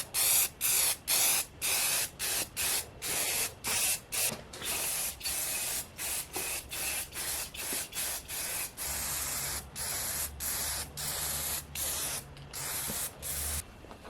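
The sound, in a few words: spraying clear coat on a 3D printed helmet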